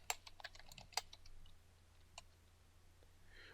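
Fingers tap out a short burst of keystrokes on a computer keyboard. The clicks are quiet and close, then fall to a faint hum, with no voices.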